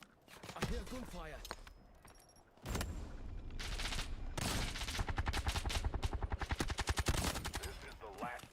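Gunfire in the Delta Force video game, loud bursts and rapid automatic fire that intensifies into a sustained rattling volley, with game noises and brief chatter in between.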